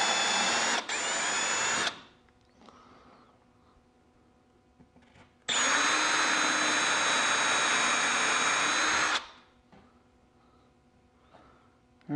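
A power drill countersinks a hole in a wooden crosscut sled for a Shopsmith, whining loudly in a short burst and then a longer one of several seconds, with quiet gaps between.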